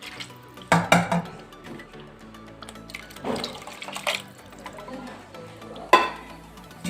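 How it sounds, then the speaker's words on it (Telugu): Water poured into a cooking pot of Andhra-style egg pulusu in tamarind gravy, with clinks of metal cookware and splashing bursts near the start, middle and end over a quiet kitchen background. "కొంచెం వాటర్ పోసుకుందాం."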